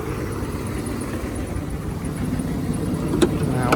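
A 2017 Thomas Saf-T-Liner C2 school bus propane engine idling with a steady low rumble that swells slightly toward the end, no voices.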